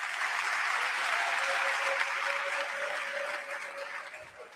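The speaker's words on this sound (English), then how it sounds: "Another round of applause" An audience at a memorial celebration for Assata Shakur gives a round of applause, a dense, roaring wash of clapping that holds steady, then gradually fades toward the end.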